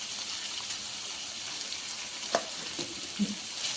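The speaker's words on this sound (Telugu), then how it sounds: "ఇలా పసుపు కూడా వేసుకొని ఒక 5 మినిట్స్ వరకు బాగా ఫ్రై చేసేసుకున్నామండి" Ivy gourd pieces frying with turmeric in a pan give a continuous close sizzle, with a couple of brief utensil knocks and scrapes toward the end and no voices.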